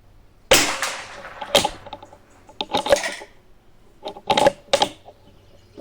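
Sharp, crisp .22 LR gunshots from a Bergara BMR Carbon rifle with Eley Ultra ammunition crack out one at a time, about seven over several seconds, some in quick pairs, fairly close and loud with short tails.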